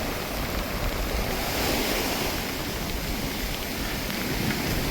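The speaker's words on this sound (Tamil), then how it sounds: "கடலுடைய அகோரம்." Sea waves crash steadily onto the shore during heavy rain, a loud, continuous broadband roar of surf and rainfall with no pauses or voices.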